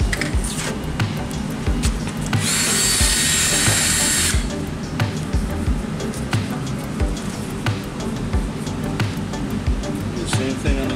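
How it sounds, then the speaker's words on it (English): A grease gun applies grease to the metal track surface of a compact tracked spider lift, a two-second hissing, squishing burst set against steady workshop clatter and knocking. "we're going to take our grease gun and throw a little grease on there"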